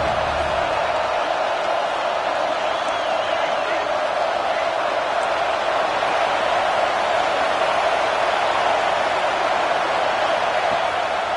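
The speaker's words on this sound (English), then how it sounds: "This dog crowd is off the leash, and they are coming after them, bringing noise on third down." A football stadium crowd roars on third down, a dense, loud, unbroken wash of cheering and noise that fills the whole stretch without letting up.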